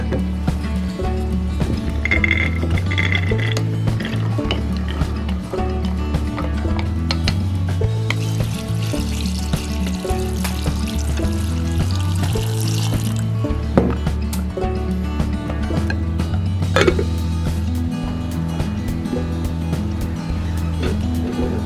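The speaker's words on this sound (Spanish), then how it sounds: "Los voy a echar dentro de esta olla con un poco de agua y al fuego." Water is poured into a pot of chickpeas, with close, continuous pouring and splashing plus clinks and scrapes of the pot and utensils across the whole stretch, with no talking.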